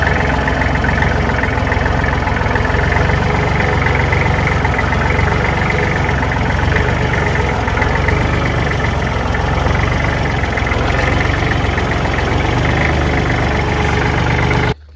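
Small Kubota tractor engine idling steadily on a farm, a continuous close, loud low rumble with a faint knocking texture that holds unchanged throughout and cuts off abruptly at the end.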